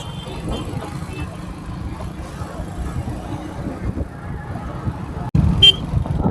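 Busy, chaotic road traffic on a daily commute route with cars and motorbikes rumbling steadily close by, a brief horn toot cutting through, and a louder passing surge near the end; voices are faint in the mix.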